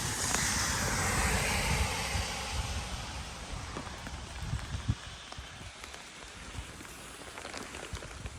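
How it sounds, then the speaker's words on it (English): Heavy rain pouring down outdoors in Bordeaux, France, a dense continuous hiss of drops pattering on surfaces, loud and close throughout with no voices. "I can't film anymore because it's raining so crazy."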